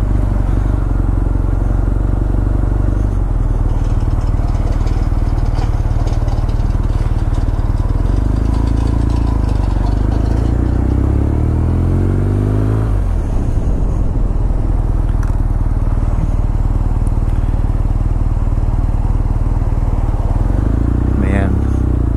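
A BMW R nineT motorcycle engine runs steadily and loudly throughout, a continuous throbbing drone with a revving swell near the middle, heard up close while riding.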